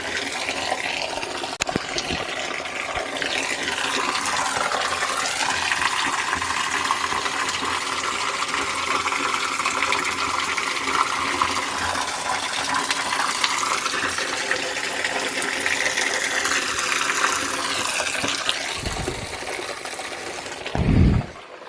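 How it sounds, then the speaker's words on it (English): Water trickles and splashes continuously near a cave in a gorge, a steady rushing wash that stays close and fairly loud throughout, ending with a brief thump. "I just heard the tapping water and I was like, where's that coming from?"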